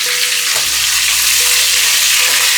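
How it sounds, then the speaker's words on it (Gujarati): Chillies and curry leaves hit hot oil for a tempering, a loud, dense, continuous sizzle and crackle that fills the whole moment up close with no talking. "વાહ, જોરદાર વઘાર બેઠો છો ભાઈ"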